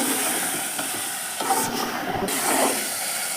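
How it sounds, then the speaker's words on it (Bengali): Beef curry cooks in a pan as a spatula stirs through it, producing a dense continuous hiss and sizzle with faint scraping movements underneath. "এই যে আমি নাড়ছি, নাড়া হয়ে গেল আমার।"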